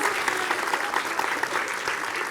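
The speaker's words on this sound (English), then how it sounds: "So, a very, very big thank you and another clap for Dr." Children and adults at a winter lecture on dinosaurs give a lecturer a warm, steady round of applause, many hands clapping evenly throughout at moderate loudness.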